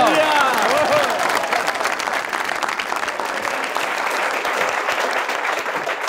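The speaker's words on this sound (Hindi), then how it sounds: "आइए कैसर के लिए तालियां।" A studio audience at a comedy talk show bursts into loud, sustained applause for a guest, dense clapping filling the room for several seconds, with a brief voice rising over it at the very start.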